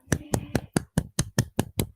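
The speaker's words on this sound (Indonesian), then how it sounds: "tepuk tangan semuanya untuk Riandu" About nine loud, evenly spaced claps close by, after a group presentation in a classroom arts lesson, each crisp and separated by brief silence, like one or a few people clapping in unison.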